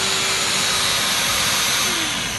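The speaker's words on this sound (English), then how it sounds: "He's busy polishing his boat." A loud, steady mechanical whine and roar of a machine polishing a narrowboat runs continuously without a break, dense and close.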